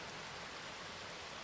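Rain falls in a soft, even hiss of dense drops, faint and steady across the short stretch with no voices.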